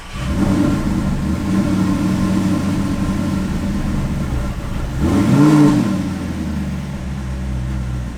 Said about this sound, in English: let's give the car a start